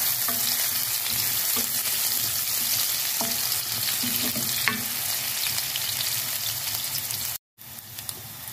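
Onion and garlic fry in a pan before chicken liver goes in, a steady loud sizzle with occasional stirring scrapes, briefly cut off near the end.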